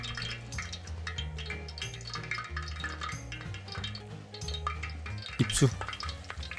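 Tiny squid caught by night foraging drop into hot frying oil, giving a sizzling, spattering burst with a sharp splash near the end over a steady hum.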